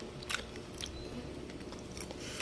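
A crunchy rambutan seed is chewed close up. Quiet, irregular crunching bites with brief crackles sit over a soft background, with no talking.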